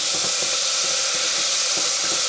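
Browned ground meat sizzles loudly in a pan while being mixed, a dense steady hiss with rhythmic scraping pulses from the stirring.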